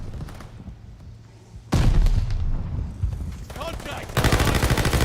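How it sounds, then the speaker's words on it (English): Mortar blasts and rapid gunfire from a Call of Duty Vanguard battle, with heavy booms and bursts of automatic fire following quickly in loud succession, mixed with in-game voices. "Mortars incoming."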